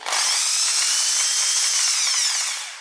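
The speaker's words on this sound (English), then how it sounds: "you can test the drill." A power drill, used for polishing a scratched action camera lens, whirs loudly at a steady high pitch for a few seconds, then starts to wind down at the end.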